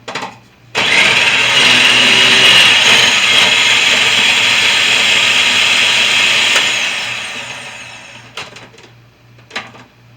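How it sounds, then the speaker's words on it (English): A food processor whirs loudly for about six seconds while shredding a Granny Smith apple, starting abruptly and winding down before a couple of short knocks. "Now I'm going to combine my Granny Smith apple to the food processor"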